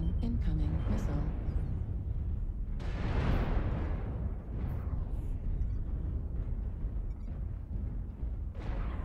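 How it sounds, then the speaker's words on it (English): Missile explosions in the MechWarrior Online mech combat game: a loud rumbling blast swells and fades, followed by further booming impacts over a dense background, with a voice speaking briefly near the start. "Warning, incoming missile."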